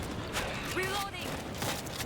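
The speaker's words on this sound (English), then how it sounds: "Reloading." A weapon reload in the zombie shooter World War Z, set in Tokyo: brief metallic clicks and mechanical handling sounds under continuous game noise and voices.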